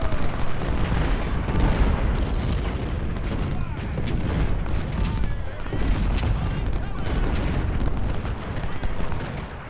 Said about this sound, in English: You can see how the cannons almost cut a path through.